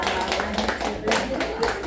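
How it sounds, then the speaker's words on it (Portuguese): A small group of people claps together indoors, a short burst of quick, uneven hand claps heard close by for about two seconds. "Receba as nossas palmas nesse momento."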